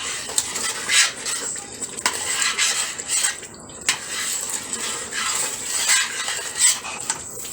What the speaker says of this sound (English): when you are cooking stew, we have to stir it so that it will not get burnt